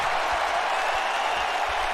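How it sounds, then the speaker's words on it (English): Steady crowd roar at a live wrestling show, a broad wash of cheering and applause held at an even level throughout with no clear voices standing out. "listen to the crowd?"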